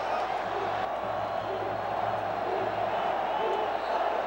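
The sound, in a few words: football crowd of Vasco fans bidding farewell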